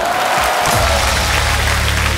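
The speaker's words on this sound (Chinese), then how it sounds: "谢谢大家的掌声" Audience applause at a studio dating show, loud dense clapping from a large crowd that stays steady throughout, with a brief voice near the start.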